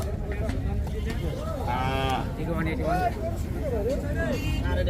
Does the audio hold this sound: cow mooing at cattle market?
yes